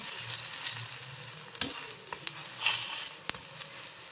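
Ceylon roti fries in a pan over low heat with a soft, steady sizzle, close by and fairly quiet, dotted with a few sharp crackles and pops.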